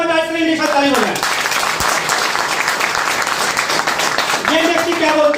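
An audience at an e-commerce direct selling industry event applauds, loud sustained clapping that falls between bits of a speaker's voice at the start and end.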